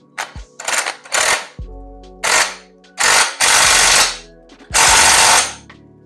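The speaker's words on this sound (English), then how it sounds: "I'm gonna tighten the rear now, the big bolt that was kind of lined up" Tightening the big rear bolt on a Yamaha R7 subcage with a power tool produces loud, close bursts of rattling impact hammering, about eight separate pulls of varying length with short pauses in between.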